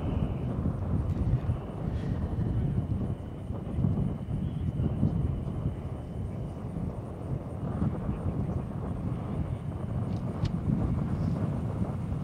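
An A-10 Thunderbolt II jet makes a slow, low pass at an air show at NAS Oceana, droning past at a steady, fairly loud level, a broad rumbling roar of high-bypass engines with wind buffeting, no speech.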